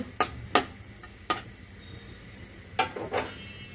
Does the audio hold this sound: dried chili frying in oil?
yes